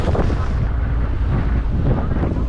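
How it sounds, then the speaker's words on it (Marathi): Strong sea wind batters a fishing boat heading into deep water off the Mumbai coast, a loud, continuous rushing roar with low buffeting gusts and no clear voices. "आज वारा पण भरपूर आहे"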